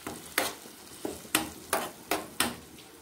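Tomato fries with tempering spices in a pan, a low sizzle broken by six sharp scraping stirs spaced roughly every half second, close and clear with no talk.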